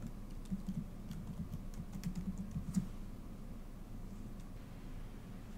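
Quiet keyboard typing as login details are entered on a computer, soft rapid key clicks in short bursts during the first three seconds, then fading to a faint background hum.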